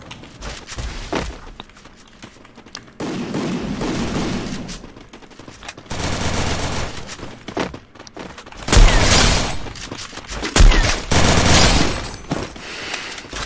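Rapid gunfire bursts and single shots in a mobile battle royale shooter game, loud and dense, with thuds and booms between volleys and no voices.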